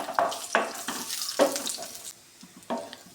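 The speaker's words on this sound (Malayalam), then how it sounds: "അതിലേക്ക് നമുക്ക് ഈത്തപ്പഴം ഇട്ട് കൊടുക്കാം. എന്നിട്ട് നന്നായിട്ട് ഇളക്കി കൊടുക്കാം." Dates dropped into hot ghee in a pan and stirred, giving a close, crackling sizzle broken by rhythmic spoon scrapes and clacks roughly every second.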